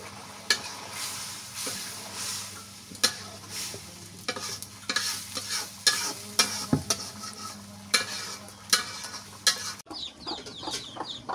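Ridge gourd and a hilsa fish head sizzle steadily in a pan while a spoon scrapes and stirs in sharp, repeated strokes, close and clear, before the frying suddenly drops away near the end.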